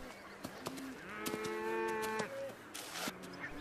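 Cattle lowing on gentle, low-intensity farmland on the Hebridean island of Islay, with several drawn-out moos rising and falling over about two seconds, plus shorter calls nearby and faint outdoor background.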